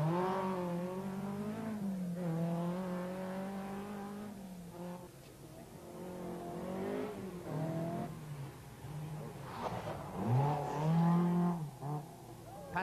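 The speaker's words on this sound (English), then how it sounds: "McKinstry is pushing his Escort to the limit" A Ford Escort rally car driven hard on a stage of the 1984 Galway Rally, its engine revving and changing pitch continuously through gear changes, with rising and falling surges and a brief tyre squeal near the end.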